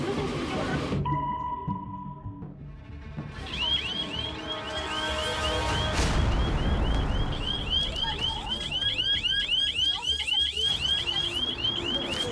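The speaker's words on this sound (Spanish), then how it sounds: "Le trató de sacar el celular y sonó la alarma." An anti-theft phone alarm goes off when someone tries to take the phone on the Metro, its repeated warbling electronic tones loud over crowd noise and a brief beep sequence.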